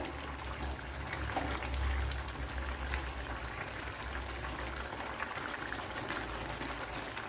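Steady soft bubbling and simmering from a pot of Kerala ash gourd theeyal curry, a continuous low gurgle with faint crackles throughout.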